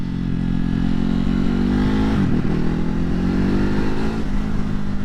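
A 2020 Ducati Hypermotard 950 SP motorcycle in sport mode accelerates hard and close, its engine note rising steadily with a brief dip midway before climbing again, loud and continuous throughout.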